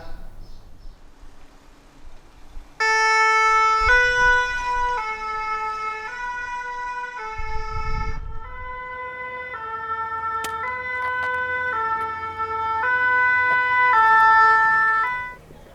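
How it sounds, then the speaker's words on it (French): A two-tone ambulance siren wails loudly and steadily on an emergency call in Saint-Maximin, France, alternating pitches in a regular pattern, with road rumble beneath it. "Départ ambulance pour secours à personne à Saint-Maximin."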